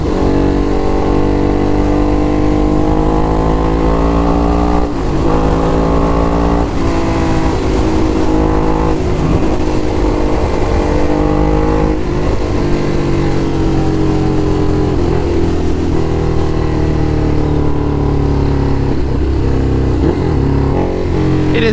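A loud aftermarket motorcycle exhaust drones and rises in pitch as the bike is ridden. The engine noise is steady and close throughout, with rushing wind under it.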